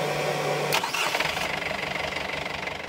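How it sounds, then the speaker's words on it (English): A sailing boat's engine cranks and catches at sea, turning over briefly before settling into a rough, close running rhythm, with no voices. "Turning on the engine hurts our soul."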